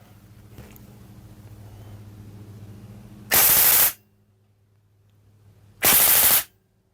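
An airsoft gun with a BOZO adjustable regulator fires two loud full-auto bursts at about 800 rounds per minute, each lasting around half a second, separated by a low hum.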